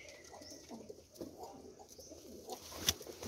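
Pigeons cooing at a bird seller's loft in Jhelum, soft low coos repeating through the clip with a brief sharp chirp near the end.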